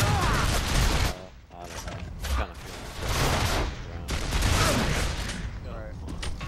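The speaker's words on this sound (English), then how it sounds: "Get that shotgun out." Shotgun fire from the video game Gears of War 3, a series of loud, booming blasts with mechanical clatter, heavy at the start and again toward the end, mixed with other game noise and voices.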